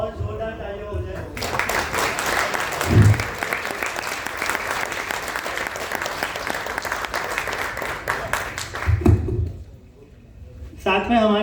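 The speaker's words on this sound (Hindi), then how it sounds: "और जोरदार तालियां हो जाए" Loud sustained audience applause from a large seated crowd at a formal event, a dense wash of clapping lasting several seconds, preceded and followed by a speaker's amplified voice.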